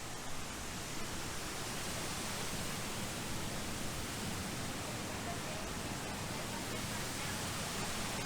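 A waterfall in Pandora at Disney's Animal Kingdom, a steady broad rushing roar of falling water that holds evenly throughout at moderate level.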